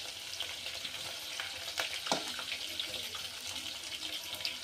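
Onions, chillies, tomatoes and spices frying in hot oil for chicken fry biryani, a steady loud sizzle with stirring scrapes throughout, close by and without talk.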